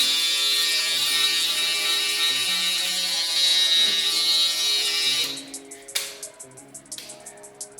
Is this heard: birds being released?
no